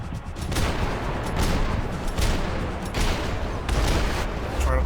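Gunfire in the Max Payne 3 video game on PC: rapid, repeated shot bursts in a dense, ongoing firefight, fairly loud and continuous throughout.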